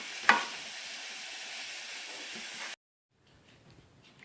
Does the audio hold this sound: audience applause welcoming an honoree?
no